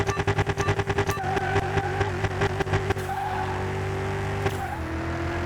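Drag-racing slicks spin on a junkyard hyper car at a drag strip launch: rapid engine pulses build, then a sustained squealing spin carries on alone before easing, with a sharp burst near the end.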